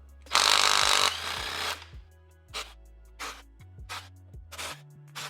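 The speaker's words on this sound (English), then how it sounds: "take off these 10 millimeter bolts holding on your valve cover" A power tool whirs loudly at first as 10 millimeter valve cover bolts come off a car engine being prepared for a turbo install, followed by a series of short, sharp bursts of the tool spinning bolts loose.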